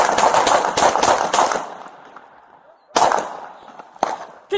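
Gunfire in a police shootout after a foot chase: a rapid burst of sharp shots up close, then a pause and a few more isolated cracks, with shouting voices mixed in.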